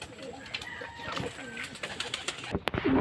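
Racing pigeons in a loft, including a blue bar white flight hen, coo softly with low rounded calls amid rustling and faint background noise, a sharper click near the end.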